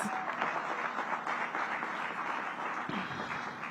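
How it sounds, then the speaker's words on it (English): An outdoor crowd at a city groundbreaking event claps steadily, a continuous medium-loud wash of many hands with no talking over it. "Give Brooke Pinto another round of applause"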